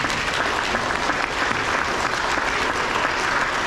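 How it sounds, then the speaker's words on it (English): Sustained applause from an elementary school awards audience honoring nominees and winners, a dense steady wash of many hands clapping throughout, fairly close and loud. "So one more round of applause for all of our nominees and our winners."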